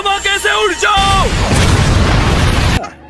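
A loud, sustained explosion blast with a deep low-end roar and crackling debris, cutting off abruptly; a voice is heard just before it.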